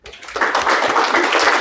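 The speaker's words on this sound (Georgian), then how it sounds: "მოდი ტაში დაუკრათ" A short burst of audience clapping at a religious sermon gathering, rising quickly and holding steady for about a second and a half.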